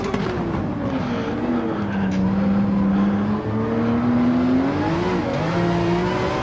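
Porsche 911 RSR race car engine in Gran Turismo 7 at Suzuka, a loud sustained howl rising and falling through the gears with steady close-up roar and no talk.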